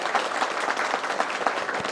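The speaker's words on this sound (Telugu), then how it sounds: "వీళ్ళందరూ కూడా ఈరోజు పార్టీలో చేరినందుకు గట్టిగా చప్పట్లు పెట్టి అభినందించాలి" A crowd at a Telugu Desam Party joining event in Vinukonda, Palnadu, applauding to welcome twenty-five families, giving dense continuous clapping close at hand with no break.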